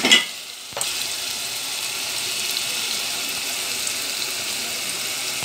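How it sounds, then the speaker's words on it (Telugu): Chopped onions frying in oil for Andhra-style crab pulusu, a steady hissing sizzle that settles in after a brief clatter at the start, close and even throughout with no speech. "ఉల్లిపాయ ఆయిల్ వైట్ వచ్చింది అంటే వేగినట్టే"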